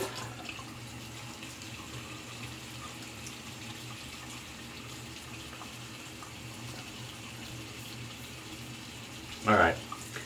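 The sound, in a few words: water running from a tap while rinsing shaving soap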